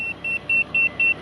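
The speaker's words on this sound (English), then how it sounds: "I have it set to beep if I'm within an inch." A Trimble GCSFlex grade system on a Cat 305.5E2 mini excavator gives a rapid run of sharp, even electronic beeps, five short pulses in quick steady rhythm, loud and alone over a faint engine hum.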